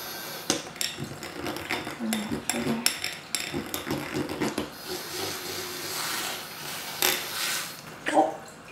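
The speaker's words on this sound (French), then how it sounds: "je continue le mélange avec le miel" A spoon clinks and scrapes against a bowl while stirring a mango, coconut and honey hair mask, a run of quick close taps and knocks with a voice talking now and then.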